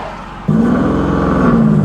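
A modified car fitted with a T51R turbo roars up suddenly after a quiet moment, its exhaust droning loud and steady with the turbo spooling, close by and heard alone.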